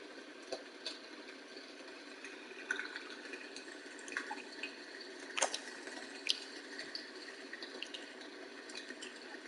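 Steady rainfall in the fishing game Fishing Planet, a quiet watery hiss with occasional sharper drops and splashes standing out now and then.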